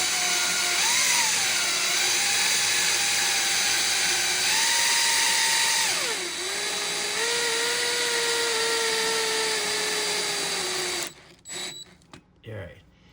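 Power drill fitted with a number 3 bit driving long screws for a Kwikset Halo keypad deadbolt, a loud close whine that dips and rises in pitch under load, then stops with a few brief clicks and handling noises.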